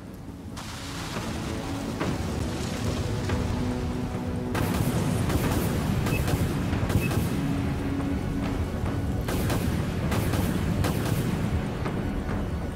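Autoguns and explosions in a Dreadnought spaceship battle game, a loud, continuous barrage of booming blasts and rumbling impacts with sharp bursts throughout, steady and dense with no voices.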